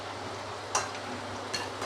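Sooji lancha deep frying in oil gives a steady, soft sizzle throughout, close and even, with a couple of small clicks from the pan.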